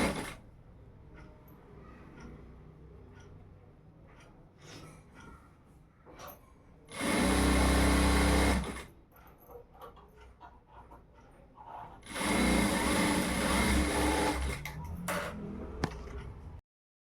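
A sewing machine stitches blouses in two loud close bursts of rapid running, each lasting about two seconds, separated by quieter handling and rustling of fabric.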